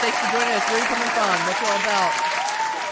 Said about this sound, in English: Don't forget the goddamn applause.